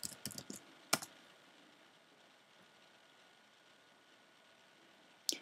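Keystrokes on a computer keyboard as a command is typed: a quick cluster of sharp clicks, one louder tap a moment later, then near silence before a final isolated keypress.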